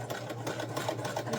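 A sewing machine runs steadily and fairly quietly while back stitching bias tape bunting, with a continuous fast stitching whir and a light rhythmic pulse.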